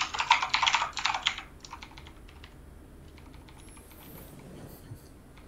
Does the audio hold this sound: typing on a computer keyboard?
yes